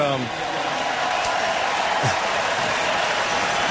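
A dense, continuous wash of clapping and cheering from a huge crowd at Yankee Stadium fills the space, loud and unbroken throughout.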